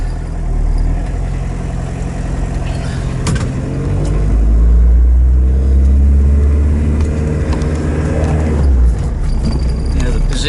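A 1979 VW Rabbit diesel driving, heard from inside the car: loud, close engine drone that rises and falls as it accelerates and shifts, with a diesel clatter and a voice talking over it.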